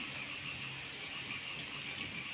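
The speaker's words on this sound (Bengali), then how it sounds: "এবার আমি ওর মধ্যে অল্প পরিমাণে জল দিয়ে দেব" A small amount of water poured into a pot of potatoes and small puti fish for a village-style fish curry, a steady soft splashing trickle running evenly throughout, fairly quiet.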